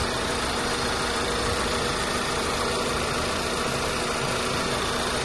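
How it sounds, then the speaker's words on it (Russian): A VW Passat B6 engine idles after sitting unused for three years, a steady, even hum with a faint constant whine, recorded close and uninterrupted, no talking. "Двигатель стал чуть по-другому работать."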